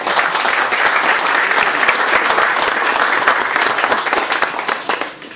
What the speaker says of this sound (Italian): che accogliamo subito con un grande applauso